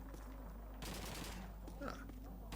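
Bursts of gunfire from the Call of Duty 2 video game on Xbox 360 crackle over a constant low hum, with a dense volley in the middle and game voices murmuring underneath.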